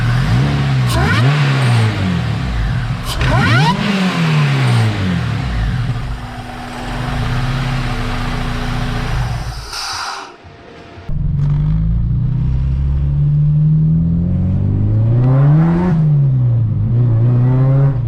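A supercharged Acura RSX engine on solid engine mounts revs up and down in several loud surges, dropping briefly to near silence before revving again, close by with no talking.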